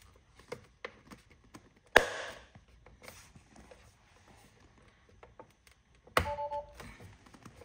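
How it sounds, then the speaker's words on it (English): Plastic clips on a new Tesla Model 3/Y instrument cluster HUD display snap into place, two sharp distinct clicks a few seconds apart amid quiet handling noises. "So just make sure that you can hear those clips when it's going down."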